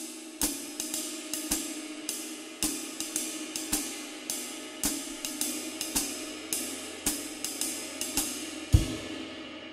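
A jazz ride cymbal plays a swing variation, with sharp stick strikes in a steady repeating pattern and accents shifted to beats two and three, alone and close with a shimmering wash between hits.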